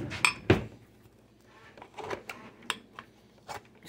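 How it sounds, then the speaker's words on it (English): A spoon clinks and scrapes inside a blender jar of berry banana smoothie, a few sharp knocks early on followed by softer scattered taps and scraping, fairly quiet and close. "Maybe I'll take a spoon and dig down there and mix it up."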